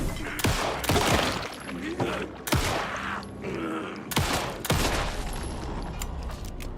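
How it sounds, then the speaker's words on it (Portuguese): Explosions in the video game Alan Wake 2, several heavy booming blasts going off in quick succession, loud and close, with rumbling tails between them. "explodiu tudo"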